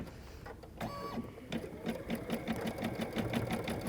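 Embroidery machine stitching a leaping frog design in bright pink thread, a steady rapid mechanical needle rhythm running throughout, close and moderately loud with no talking.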